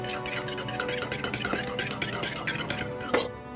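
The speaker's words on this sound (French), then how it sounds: "Viens battre les œufs comme si tu allais faire une omelette." Eggs beaten with a utensil in a bowl for oat biscuit batter, a fast steady clatter of metal tapping and scraping against the dish, close and continuous with no voices.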